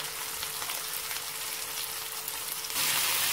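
Onions sauté in a pan for a white peas kurma, giving a steady, soft sizzle that grows louder toward the end, with no talking.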